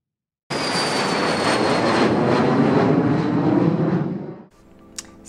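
Steady, loud broadband roar of airliner cabin noise fifteen hours into a nineteen-hour long-haul flight, with a thin high whine over it, holding constant for about four seconds before dropping off to a quieter hum with a brief click.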